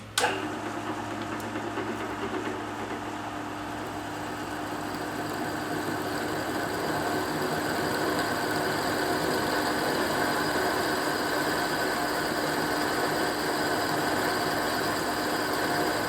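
A drilling machine works into brass with a reground drill bit, giving a continuous hum and grinding with a steady tonal whine. It starts with a sharp onset and stays loud and close.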